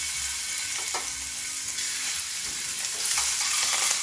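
Shrimp drop into hot bacon fat in a pan and fry with a steady, close crackling sizzle, with a few clinks and stirring touches, without any talking.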